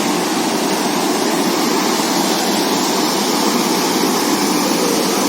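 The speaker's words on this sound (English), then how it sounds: "Here, this is a spring, small spring. Now where water is coming out." Spring water pours out steadily in the Achabal garden in Kashmir, a loud, continuous broadband rush close by, with no pauses and no voices.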